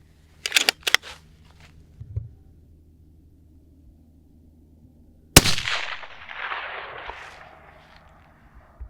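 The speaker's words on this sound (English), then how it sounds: "We're going to shoot a couple rounds through the gun" Rifle shots from a 22 ARC firing factory Hornady 80 grain ELDX ammunition: a few sharp clicks and taps, then one loud close report trailing into a long rumbling echo.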